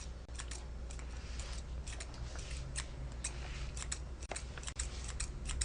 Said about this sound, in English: I'm going to take my thinning shears